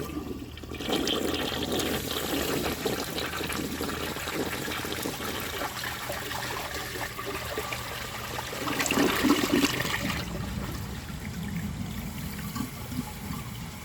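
A 1951 Standard Cadet toilet flushes a washcloth with a loud, close rush of water that swells and gurgles, then settles into a steady trickling refill.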